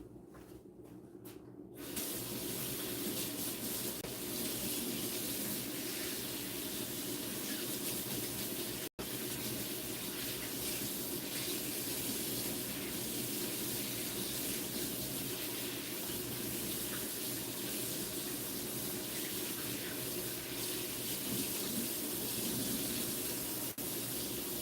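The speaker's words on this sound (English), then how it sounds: "I'm going to wash my hands" A kitchen tap runs for hand washing, a steady broadband water hiss that starts after a couple of seconds of quiet and continues unbroken at an even level.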